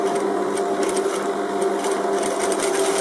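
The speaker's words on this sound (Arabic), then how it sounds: "غادي نشد ونخيط على هذا الشكل" A sewing machine stitches fabric for a Moroccan garment, a loud, steady, close-up mechanical whir with a fast even rhythm that runs without a break, and no speech over it.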